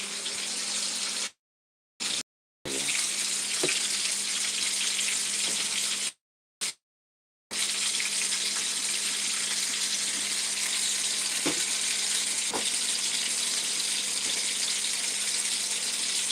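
Jamaican curry chicken fries in a pan on the stove, giving a steady, dense sizzling hiss that continues almost without a break, interrupted only by a few brief cuts in the sound, with no one speaking.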